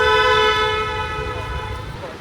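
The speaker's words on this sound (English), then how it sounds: "We are waiting for the train to arrive." A train horn sounding at a station in Washington, D.C., one sustained, loud tonal blast with rumbling low noise beneath it.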